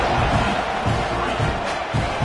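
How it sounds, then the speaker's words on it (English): A video game crowd fills a college football stadium during a Tennessee at Texas A&M matchup, a dense, loud roar of cheering and shouting that swells steadily without pause. "this crowd now ready to get behind them"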